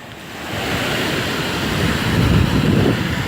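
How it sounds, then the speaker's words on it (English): A car pushes through deep floodwater on a street during Tropical Storm Harvey, a rushing, surging wash of water that swells louder toward the end, with wind noise. "I'm riding in water."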